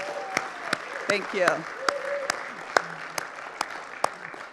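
A conference audience claps steadily for several seconds, scattered individual claps standing out over the crowd, while a voice briefly speaks through it.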